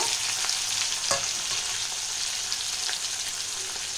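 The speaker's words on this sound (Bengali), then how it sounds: "একটু টমেটো, সব একসাথে ভেজে নেব।" Tomatoes and spices fry together in a pan with a loud, continuous close sizzle, broken by a few faint scrapes of stirring, and no voices.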